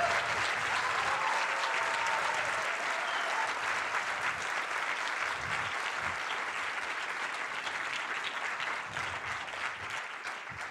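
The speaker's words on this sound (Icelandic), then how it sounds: "ég legg til að við gefum þeim gott klapp" An audience applauds presenting teams at a startup competition final, with a loud, sustained round of clapping that fills the room and eases slightly toward the end.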